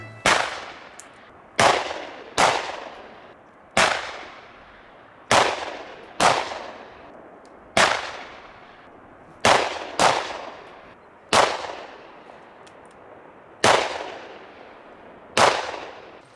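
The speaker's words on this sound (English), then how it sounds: "We'll give you a cowboy's send-off and shoot our pistols into the sky." About a dozen pistol shots are fired into the sky during an outdoor back-country pack trip send-off, sharp loud cracks with short echoing tails, spaced irregularly one to two seconds apart.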